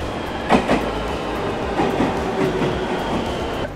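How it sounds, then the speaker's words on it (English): Loud, close rumble of an orange train at a station in Japan, with rhythmic clatter of wheels over rail joints and a faint metallic whine. "This time we've got an orange train."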